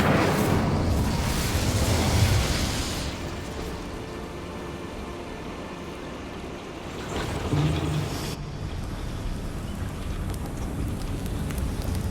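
A fire spell cast in a fantasy wizarding video game: a broad, roaring whoosh of flame and crackle that swells loud, eases into a steady burning rush, then flares again before cutting off.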